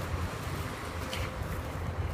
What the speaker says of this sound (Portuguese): É que tá um vento gelado, sabe?